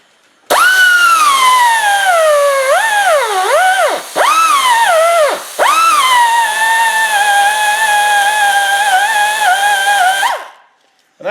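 A pneumatic die grinder grinding a quarter-inch piece of scrap metal whines loud and close, its pitch dipping and rising several times as it bites into the workpiece, then it winds down and stops.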